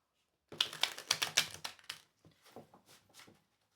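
Tarot cards being shuffled, giving a quick run of crisp, close papery riffles followed by softer, scattered flicks, heard alone.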